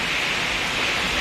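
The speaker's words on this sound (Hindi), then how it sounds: "बहुत ज़बरदस्त बारिश हो रही है बाहर" Heavy rain pours steadily outside, a dense, loud, unbroken hiss with no gaps and no voices.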